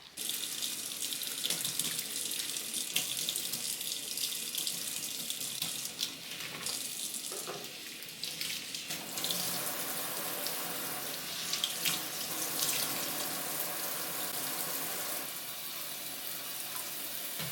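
A tap runs steadily into a sink while a houseplant is washed with soap, making a continuous close splashing rush that shifts as hands and leaves move through the stream.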